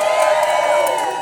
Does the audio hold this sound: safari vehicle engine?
no